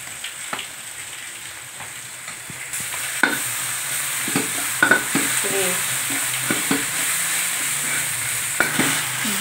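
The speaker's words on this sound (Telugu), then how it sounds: "ఇది అల్లం వెల్లుల్లి పేస్ట్ వేసాను కదా, కొంచెం పచ్చివాసన పోయే వరకు వేసేద్దాం" Ginger garlic paste sizzles steadily in a hot pan for an aloo and cashew masala fry, with irregular scrapes and taps of a spoon stirring through the close, continuous frying hiss.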